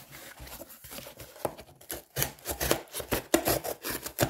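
A Blackhawk Hawkpoint 15HP01BK knife slicing through thick cardboard, giving a string of close, scratchy rasping strokes in an uneven rhythm with short pauses between cuts.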